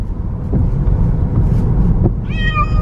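A cat meows from inside a car during a drive to the vet, a loud and persistent meower; a single drawn-out meow rises near the end over steady road and engine rumble.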